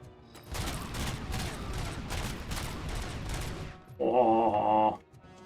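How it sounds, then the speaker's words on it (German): Rapid sustained gunfire with unlimited ammo in a video game, a dense unbroken volley of shots lasting several seconds, loud and close, ending in a short harsh burst of another tone. "Die unendliche Munition macht einfach Spaß. Einfach draufbolzen, bis sie tot sind."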